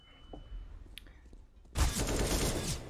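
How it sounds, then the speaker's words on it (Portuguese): Gunfire in Counter-Strike: Global Offensive during an ESL Pro League match: after a quiet stretch with faint clicks, a sudden loud, dense burst of rapid shots fills the rest of the moment. "Toma os disparos do Kerrigan."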